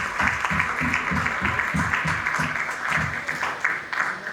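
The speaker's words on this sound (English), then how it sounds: "let us honor the Almighty God by giving him a very good clap offering" An audience at an awards ceremony claps as a clap offering to God, steady clapping of moderate loudness with rhythmic low thumps running beneath it throughout.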